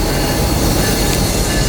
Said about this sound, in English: they're backing the power south of the yard onto their train across 26th Avenue